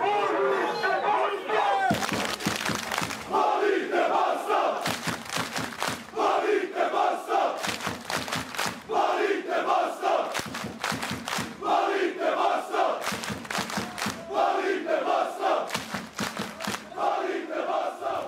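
A huge crowd of some 30,000 Bosnia and Herzegovina football fans roars and chants in loud, rhythmic bursts separated by short gaps, with dense massed voices throughout.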